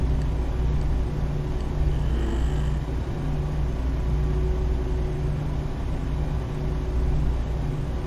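Truck with a 525hp DD13 engine driving by in American Truck Simulator, a steady loud engine drone with low rumble throughout, no talk.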